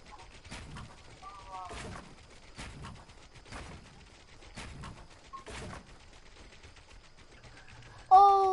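Gunfire in the video game Fortnite, including sniper fire, comes as a series of sharp, fairly faint shots spaced about a second apart. A louder burst of game sound follows at the end.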